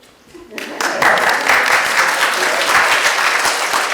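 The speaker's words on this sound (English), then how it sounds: "So all right, applause now." An audience breaks into applause after a brief quiet moment, clapping swelling quickly and holding steady and full.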